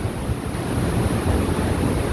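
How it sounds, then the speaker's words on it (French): Strong wind blows by the sea on an island road trip, a loud continuous roar buffeting the microphone with surf-like rushing and no pauses. "Il y a beaucoup de vent, on est dans un petit courant d'air là"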